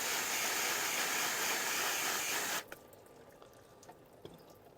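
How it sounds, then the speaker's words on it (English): A hard spray of pressurized water rinses plant leaves to knock off mealybugs, giving a loud steady hiss that stops abruptly midway and leaves soft drips and light splashes behind. "We got to try to get those bugs off of this leaf with just the water pressure."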